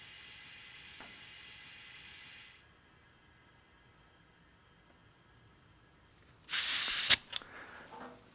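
Compressed air hisses into a resin casting pressure pot being brought to 60 psi: a soft steady hiss for a couple of seconds, a quiet pause, then a louder sharp burst of rushing air with a few brief spurts.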